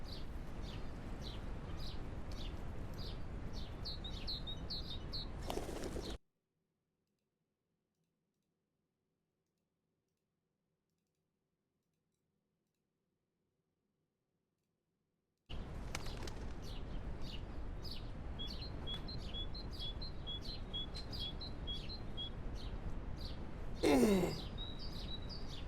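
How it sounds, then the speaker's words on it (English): Birds chirp and tweet steadily in the background, a faint outdoor chorus of repeated high calls, cut by a stretch of dead silence before the chirping resumes. "I like how you heard the birds and you knew."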